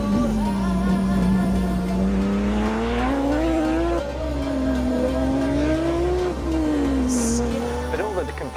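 A Pikes Peak hill climb race car with a manual gearbox using Toyota Tacoma components pulls hard, its engine note rising and dropping through several upshifts and downshifts, loud and close throughout with a brief tire chirp.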